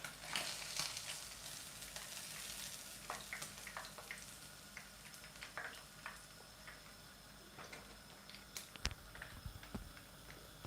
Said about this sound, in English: You don't want to over fry them.